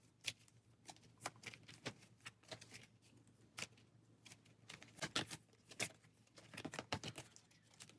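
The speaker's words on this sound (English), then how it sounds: "So shuffling for the next round order." Playing cards for the Aeons End board game are shuffled by hand, producing quick, irregular riffles and snaps in clusters, close and fairly quiet, with no talk.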